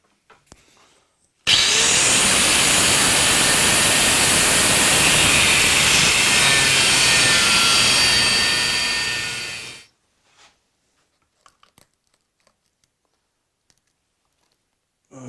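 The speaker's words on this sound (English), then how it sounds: "Go and chop that off with a grinder" An angle grinder cuts through a metal cover piece for a GS1000 motorcycle, one loud sustained screaming cut of about eight seconds that winds down, followed by quiet faint handling noises.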